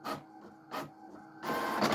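A printer printing shipping labels runs nearby in bursts of mechanical whirring, with two short feeds followed by a longer, louder stretch of printing.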